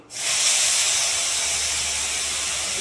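Elephant apple pieces tipped into a hot pan with five-spice tempering, bursting into a loud, steady sizzle that rises sharply at the start and holds as a dense hiss.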